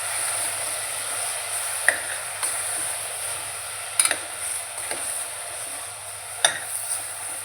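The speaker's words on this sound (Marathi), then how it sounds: "मिक्स करून घेते भाजी." Val papdi beans are stirred in a pan over a low, steady sizzle, with a few sharp spoon taps and scrapes against the metal scattered throughout.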